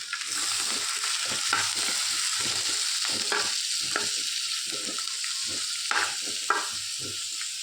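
Garlic, tomato and grated coconut fry in a little oil, a steady close sizzle with bursts of stirring scrapes and crackles recurring throughout, no voices.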